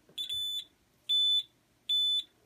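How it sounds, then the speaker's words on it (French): A shrill electronic buzzer from a Chubb alarm control panel sounds three times in short, evenly spaced tones during a signalling test, clear and close in a quiet room. "ça teste le buzzer"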